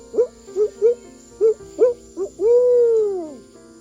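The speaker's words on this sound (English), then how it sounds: "These birds are notable for their "who cooks for you" calls that can be heard echoing through these cypress swamps at dusk." An owl in a cypress swamp along the Black River at dusk gives its 'who cooks for you' call: six or seven short, clear hoots in an uneven rhythm, then one long, drawn-out hoot that falls away, close and alone.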